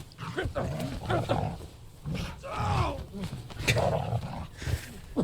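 A computer-generated dog growls and snarls in rough bursts from Superman movie footage, with a voice talking over the film sound.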